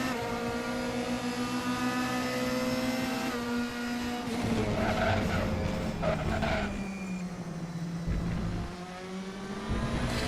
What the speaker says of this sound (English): Let's ride on board with Alessio De Bonis here for a moment.